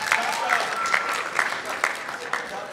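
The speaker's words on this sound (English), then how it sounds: "Give them a huge round of applause." Audience applause at a high school comedy hypnosis show, moderately loud clapping with a few sharper bursts and some cheering voices mixed in.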